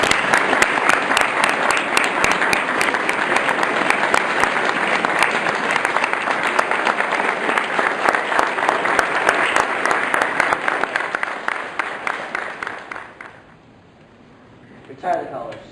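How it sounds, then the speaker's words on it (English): An audience at a scout troop court of honor claps in a long, full round of applause that holds steady for about thirteen seconds, then fades to quiet before a brief noise at the end. "Let's give another round of applause to Mr. Murray."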